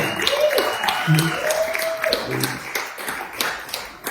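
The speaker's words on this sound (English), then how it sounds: "So let's give a huge round of applause" Audience applause at a crypto convention as a speaker walks onto the stage, scattered clapping underneath an announcer's voice and some crowd noise throughout.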